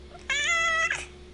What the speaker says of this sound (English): Oh, he's a brave kitty.